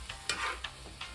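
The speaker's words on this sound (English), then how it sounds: "Now the mushrooms are going into a pan." Mushrooms cooking in a pan, a soft sizzle broken by four short rattling shakes of the pan at roughly even intervals, with no voices.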